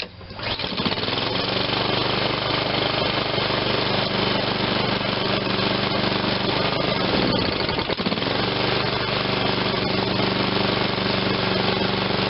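A Honda HRR216 self-propelled lawn mower runs on full choke, its small engine giving a loud, constant, rough buzzing roar that holds steady for about twelve seconds.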